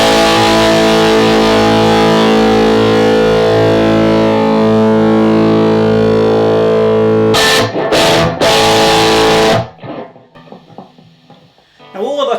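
A loud, sustained electric guitar chord through a Friedman Dirty Shirley overdrive pedal drones with heavy overdrive, then is cut by a few choppy stabs before falling into near silence with faint handling noise.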